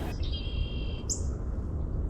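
A faint high call from a northern cardinal, followed by a brief sharper chirp, sounds over a low steady rumble of background noise.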